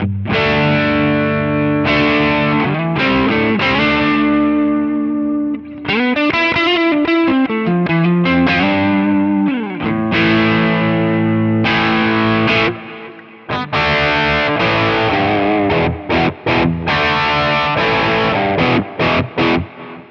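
Heavily distorted electric guitar playing chords and sustained bends through a high-gain amp capture on a Cortex, loud and continuous with brief gaps, no voices.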